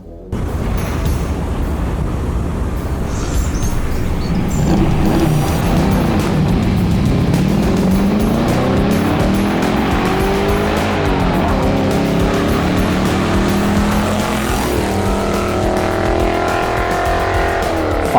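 A car fitted with a new distributor and coil accelerating hard from 0 to 60, a loud continuous engine roar that rises through the gears with shift breaks, heard up close from start to finish.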